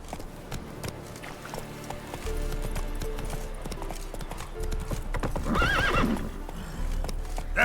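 Roach, Geralt's horse in The Witcher 3, pounds along at a gallop with close, rapid hoofbeats, then lets out a clear whinny near the end while the hooves keep drumming.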